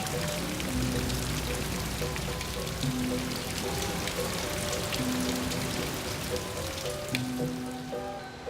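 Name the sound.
rainwater dripping into pools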